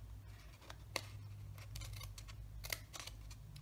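Scissors snipping paper for a stamped card project, a few quiet, separate cuts in a calm room, with no talking.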